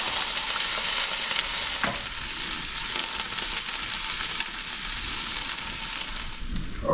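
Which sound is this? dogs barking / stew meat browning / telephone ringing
stew meat browning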